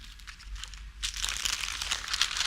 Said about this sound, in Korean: 이렇게 한 다음에 투명 비닐을 넣고 다시 한번 겉을 싸겠습니다